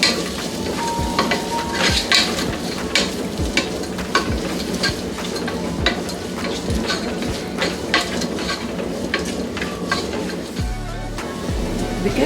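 Finely chopped onion fries in a pan for a black-eyed bean palya, with a continuous sizzle broken by frequent scraping and clinking strokes of a spoon stirring against the metal.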